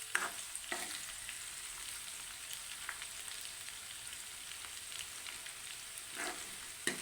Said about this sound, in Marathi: बघा होत आहे, रंग होत आहे बघा कांदा मस्तपैकी.